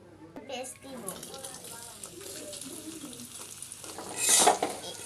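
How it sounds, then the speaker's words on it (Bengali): Oil sizzles in a pan on a stove while dried fish is cooked with garlic, a steady crackling hiss close by with utensil scrapes, a voice talking over it, and a louder burst of sizzle near the end. "তেল দিয়ে দিলাম।"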